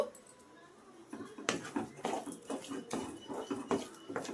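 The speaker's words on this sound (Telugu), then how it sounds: "ఇలాగ మనకు వేపుతూ ఉండాలి దగ్గరుండే కలుపుకోవాలండి లేకపోతే అడుగు మాడిపోతుంది" Semolina being dry-roasted and stirred in a pan, with a utensil repeatedly scraping and clinking against the metal in steady, close strokes. Soft talk runs underneath.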